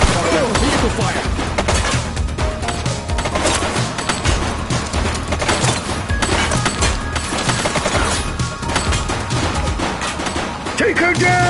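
Gunfire in The Precinct, a police video game, crackles in dense bursts through a loud, busy mix of music, crashes and thuds across the whole stretch, with voices shouting over it.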